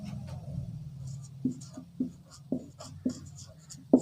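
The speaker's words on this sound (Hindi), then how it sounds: "तो रीज़न में हम लिखेंगे कॉरेस्पॉन्डिंग साइड्स" A pen scratches across paper while notes for a geometry proof are written out, with soft intermittent strokes and sharp taps as words are marked, quiet and close.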